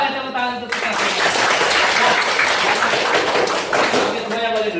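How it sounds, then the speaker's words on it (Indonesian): Classroom applause from children and teacher after a singing activity, a dense continuous burst of clapping close by with some voices mixed in, fading into speech at the end. "tepuk tangan untuk kita semua"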